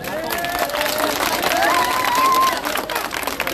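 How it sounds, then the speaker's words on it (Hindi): A rally crowd of children applauds and cheers, a dense, continuous wash of clapping and voices close by for a few seconds, with a whistle-like tone rising briefly in the middle. "तालियां बजाओ।"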